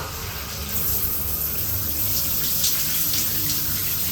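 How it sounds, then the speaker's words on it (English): Shower running off a Vaillant 940 boiler and power tank, a steady broadband hiss of water spray that swells after the first half second and holds constant, fairly close, with no talk. "if we turn this shower on,"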